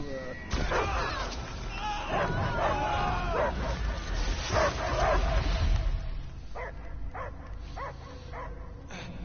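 A dog in Guardians of the Galaxy video game barking and yelping in a string of sharp calls amid game noise and speaking voices, with a run of clearer yips near the end.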